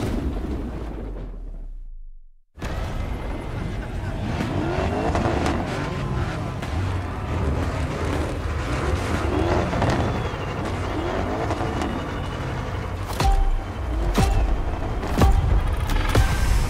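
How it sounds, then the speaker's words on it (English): Racing cars roar through a storm in The Crew Motorfest, engines loud and continuous with repeated passing sweeps, rumbling bursts and impacts, after a brief drop to silence at the start. "So you're driving at warp speed through a tempest and racing a bunch of friggin' monsters."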